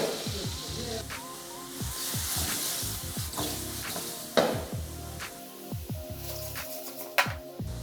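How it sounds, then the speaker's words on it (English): Mixed vegetables sauté in vegetable oil in a large aluminum pot for a big batch of beef mushroom casserole, giving a steady close sizzle broken by repeated scraping stir strokes and a few sharper clanks. "I add the prepared vegetables to the pot and start sautéing them"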